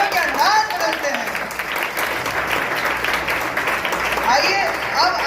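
Audience applause fills a Hindi Diwas celebration at a school in Dehradun, Uttarakhand, with dense, continuous clapping from a crowd heard close and steady, while a voice speaks briefly over it.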